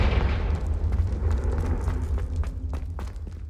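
A Confringo blasting spell explodes in Hogwarts Legacy with a heavy, rumbling boom that starts loud and decays into crackling debris and scattered small pops. No talking is heard over it.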